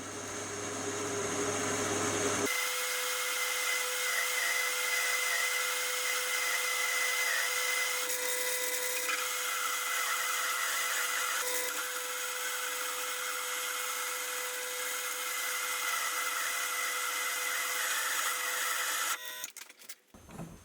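A 1-horsepower metal lathe cutting with a sharp DCGT carbide insert while making a collet chuck: a loud, steady machining whine with a hissing cutting noise for most of the clip, cutting off near the end.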